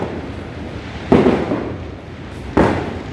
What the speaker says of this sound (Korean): 폭죽을 엄청 터뜨리고 있네요 지금